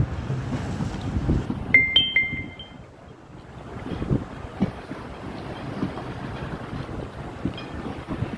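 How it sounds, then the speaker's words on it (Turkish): Gusty storm wind rumbles across a harbor where boats are moored, buffeting loudly in waves with a brief high metallic squeal partway through. "Kaşanoku'da çok sert bir rüzgar var"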